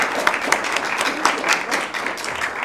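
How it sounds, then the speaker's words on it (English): Applause for guests at the close of a Thanksgiving-season community talk on living with Alzheimer's: a small audience claps in a dense, steady patter at moderate loudness for a few seconds, without anyone speaking. "can I have a round of applause for my wonderful guests?"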